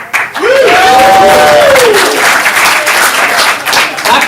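Audience applause at a stand-up comedy showcase: a dense, steady wash of clapping fills the room from start to finish, with a brief voice rising over it at the start.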